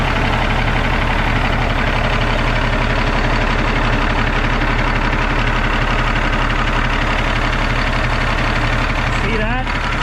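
A Cummins ISX diesel in a Peterbilt 379 truck idles steadily with its oil fill cap removed, a loud, constant low rumble with a dense, unbroken texture that runs the whole time and barely changes in level.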